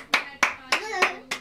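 Hand claps on the O Ses Türkiye singing show: five crisp, evenly spaced claps in quick succession, close and clear with nothing else audible.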